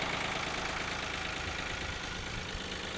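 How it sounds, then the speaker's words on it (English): A blue tractor engine running steadily with a low, even chugging idle, close by and continuous with no talk over it. "What do you think about driving a tractor?"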